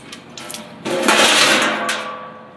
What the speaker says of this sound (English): Now we can see that the oil is just about all drained out.